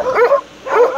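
Ordinary stray-type dogs kept at a small private zoo on the outskirts of Tbilisi, giving two loud, close, yelping barks with a whining edge, one after another.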